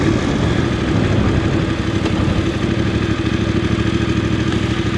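A Voge DSX 900 motorcycle turns around and rides off into the wind, its engine giving a steady, loud mid-pitched drone with rumbling low end and wind buffeting, sustained throughout with no voices.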